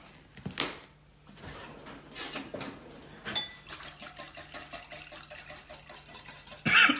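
A whisk stirs au jus seasoned with a sprinkle of prime rib rub, giving quick metallic clinks and scraping taps against the pan or bowl in an irregular rhythm, close and moderately quiet, with no talk.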